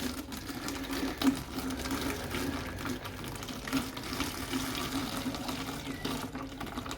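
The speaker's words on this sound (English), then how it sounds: "So I'm pouring my wash water in there." Gold-panning wash water poured into a container, a faint continuous trickle and splash of liquid at low level, with no talking.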